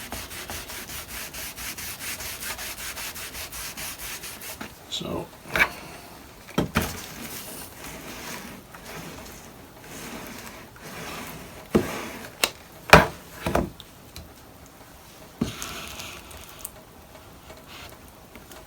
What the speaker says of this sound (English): we're going to hammer it down again and reactivate that glue